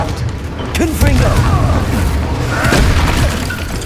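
A Confringo fire spell bursts in the Hogwarts Legacy video game during a combat fight, a loud booming blast with crackling debris and shouted spell voices over it.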